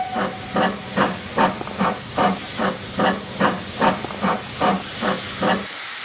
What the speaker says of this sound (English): number 1 heads north out of the complex with a train for the Aberaman blending site